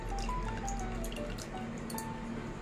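Thin water drained from cooked lentil dal with ponnaganti greens is poured into a bowl. It makes a steady, soft trickle with light dripping, close and continuous for a few seconds, and no one speaks.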